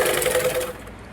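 An electric sewing machine stitches a blouse neckline with a fast, steady mechanical whir that runs for about half a second, then stops, leaving a quiet room.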